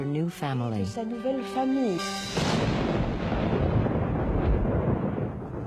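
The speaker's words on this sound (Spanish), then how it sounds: "En la noche de la boda hubo una tormenta agorera." A thunderstorm rumbles in a dramatized historical scene, a broad rolling crash of thunder that swells in after someone speaks and then sustains as a dense, loud roar.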